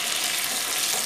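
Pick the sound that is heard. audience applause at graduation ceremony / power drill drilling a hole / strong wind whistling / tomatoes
tomatoes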